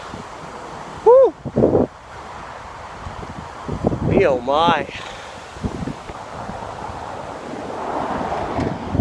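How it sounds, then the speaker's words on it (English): Blustery wind gusts across an open freeway crossing, a steady broadband roar that builds toward the end, with a person exhaling and exclaiming briefly over it. "when you cross that freeway, it gets blustery."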